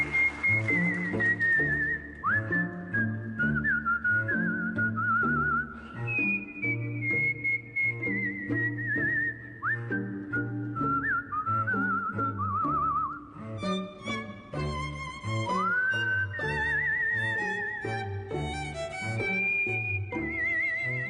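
A bright, steady whistled melody, the Habanera from Bizet's Carmen, carries over a rhythmic instrumental accompaniment, continuing at an even volume with a few brief pauses.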